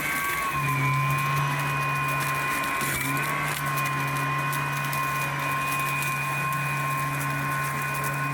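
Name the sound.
Lymow One robot lawn mower starting to mow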